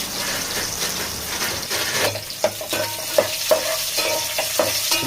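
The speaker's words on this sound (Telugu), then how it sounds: "పచ్చిమిర్చి అలాగే ఉల్లిపాయలు మండలో వేసుకొని కాసేపు అలా వేయించుకొని" Green chillies and onions frying in a pan for a Nellore-style fish curry, a loud continuous sizzle with rhythmic stirring clicks and scrapes of a spoon, close and steady, with no speech.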